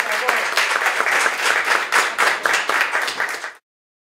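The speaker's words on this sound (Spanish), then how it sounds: "Un aplauso." An audience applauds for a continuing education beauty program, with a dense, even burst of clapping that lasts a few seconds before cutting off abruptly.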